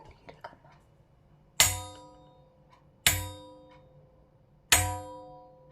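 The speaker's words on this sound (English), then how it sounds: "let me see what happens when I strike the edge of this metal dish with a spoon" A spoon strikes the edge of a metal dish three times at even intervals, each a sharp, close metallic clang that rings on with sustained overtones before slowly fading, with faint handling noise before the first strike.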